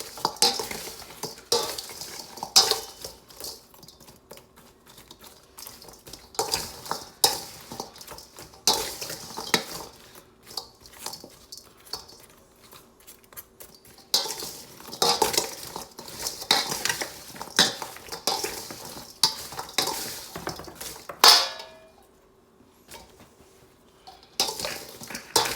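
Zucchini slices tossed in a salt and vinegar sauce, with repeated clattering bursts of utensils against a bowl or pan, loud and close, separated by brief pauses and a quiet gap near the end.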